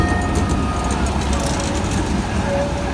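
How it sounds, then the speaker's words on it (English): A hop-on hop-off tram rumbles by in a busy square in The Hague, a steady loud mechanical roar with faint tonal whines and street traffic around it. "Hop on, hop off tram."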